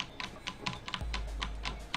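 Rapid computer keyboard typing during a gaming movement tutorial, a quick series of close, crisp key clicks with a steady low hum underneath and no talking.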